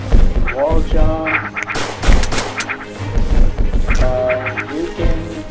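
Gunfire from Mundane Man, a student-made PC shooter, comes in rapid, loud, closely repeated shots with sharp cracks and crashing effects, layered over steady game sound.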